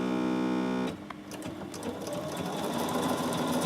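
A Bernina 7 Series sewing machine starts with a steady, high-pitched motor whine and then runs on as a busy, rattling stitching noise close by. There is no talking.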